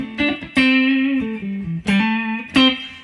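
A 2000 Gibson ES-135 electric guitar on the neck pickup, with a few plucked notes and strummed chords ringing out warmly with some bite, played alone and up close.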